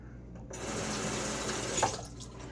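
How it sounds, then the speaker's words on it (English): Tap water running while a Timeless stainless steel safety razor is rinsed, a steady splashing gush starting abruptly and tapering off near the end, close and moderately loud. "So we got a rinse down there"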